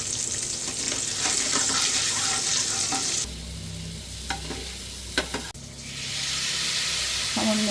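Cumin, turmeric, chilli, dried red chilli, nigella seeds and bay leaf frying in mustard oil, stirred in a pan. A loud, close sizzle cuts to softer stirring scrapes and clicks, and the hiss then swells back up.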